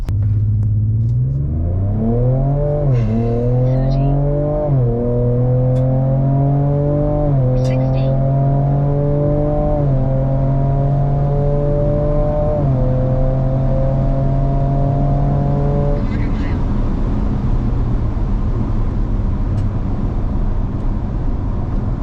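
Ford Ranger Raptor with a Ford Performance tune accelerating hard from a standstill, engine pitch climbing through several gear shifts, loud and close, then easing off into steady road rumble.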